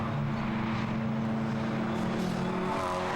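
Abarth 500 race cars accelerating up Clay Hill at Oulton Park, a sustained droning engine roar with steady tone, loud and continuous without speech.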